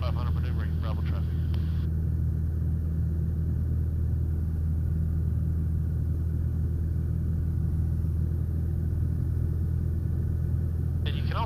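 Constant drone of a small training plane's engine in flight, a dense steady rumble heard from inside the cabin, with brief radio chatter bursts near the start and end.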